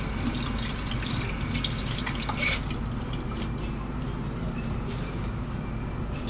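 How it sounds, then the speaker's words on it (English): A steady stream of tap water runs into a sink as hands are washed under it. The splashing is close and continuous, with one brief louder splash partway through and no voices. "Wash my hand here."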